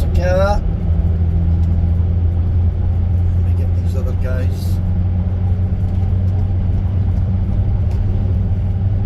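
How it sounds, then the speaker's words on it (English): A car passes on a Scottish road with an overtaking lane, a loud steady rumble of engine and tyres that dominates throughout while someone talks over it. "Here comes a car."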